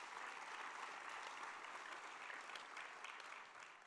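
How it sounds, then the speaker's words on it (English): A conference audience applauds at an official closing, with dense, sustained clapping from many hands that fills the room evenly and fades slightly toward the end, heard from a distance. "Please give them a big clap as well."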